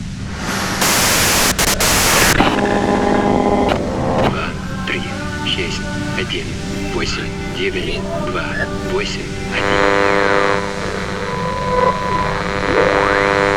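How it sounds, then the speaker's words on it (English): Broadband hiss of white noise from the Disco Elysium video game, a loud static wash with a burst near the start, then layered with sustained tonal hums and beeping textures for over ten seconds. "If you've got something really important to say, you can do it through the white noise"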